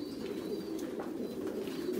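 Large hybrid pigeons, a cross of Thai Titan and American King breeds, coo softly in a low, continuous murmur that stays faint and steady.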